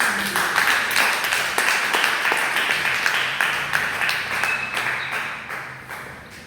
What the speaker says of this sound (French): Est-ce que tu peux donner une acclamation?